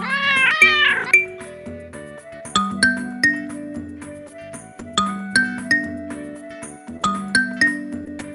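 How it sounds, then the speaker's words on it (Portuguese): A cartoon cat meows in a rising, wavering cry at the start, followed by a light tinkling melody of bell-like notes in a steady rhythm. "O gato, em forma de agradecimento, vai tentar se comunicar com miados"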